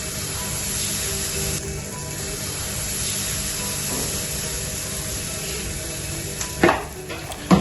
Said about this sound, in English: Are you ready for some sizzle?